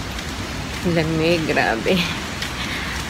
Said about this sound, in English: It's a rainy Friday morning.